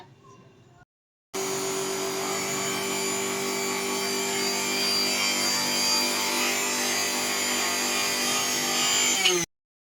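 An electric grinder whirs loudly and steadily for about eight seconds while grinding spices into a paste, starting abruptly after a brief pause and cutting off at the end.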